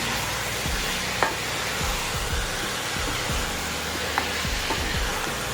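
Small chicken pieces cook in a pan with very little oil, giving a constant broad sizzling hiss with occasional faint taps, and a low hum persists underneath with no voices.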